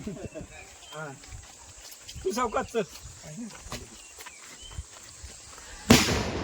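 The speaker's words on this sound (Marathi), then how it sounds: "अरे फटाके लावा" During a one-and-a-half-day Ganesh immersion procession in Talewadi, a Konkan village, a single loud firecracker bursts sharply near the end, after stretches of chanting and voices from the crowd.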